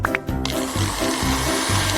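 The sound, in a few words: blender blending smoothie ingredients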